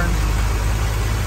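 A restored 1970 Dodge R/T with a 383 V8 idling with the hood up, a steady deep rumble close by, with no talk.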